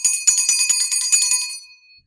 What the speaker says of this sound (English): My mom's bell.